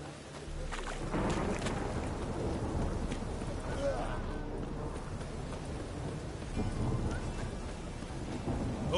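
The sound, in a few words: thunderstorm with rain in The Witcher 3 video game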